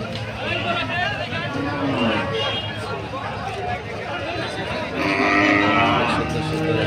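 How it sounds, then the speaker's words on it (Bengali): Cattle moo repeatedly at a crowded livestock market at Nalin Bazar in Gopalpur, Tangail. The low calls rise over a steady murmur of people talking nearby. "দেখেন সারিবদ্ধ গরু"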